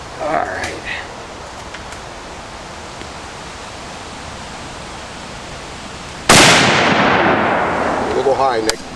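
A Springfield 1903 rifle in World War I configuration fires a single loud, sharp shot outdoors, its boom trailing off slowly into a long echo, after a stretch of quiet wind and faint murmuring.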